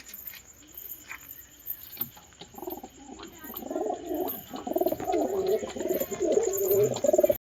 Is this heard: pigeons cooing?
yes